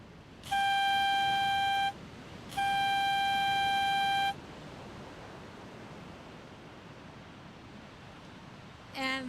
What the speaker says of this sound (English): that was the sound of the buzzer to end the first expression session